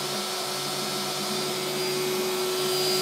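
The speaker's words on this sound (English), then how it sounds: "start the router, start the extractor" A CNC router and its dust extractor run together in a workshop, a loud, steady, dense roar with a faint whine and no breaks or voices.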